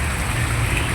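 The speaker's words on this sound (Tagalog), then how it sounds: "talagang buhos na buhos ang ulan" A heavy rain downpour, a dense, even hiss of water hammering down outdoors with no breaks, loud and close across the short moment.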